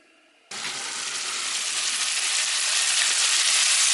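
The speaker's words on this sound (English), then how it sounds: "So yeah, I'm baking now the onion." Onion dropped into a hot pan with beef stew juices bursts into loud, sudden sizzling that holds steady and slowly grows a little stronger, close and continuous after a quiet start.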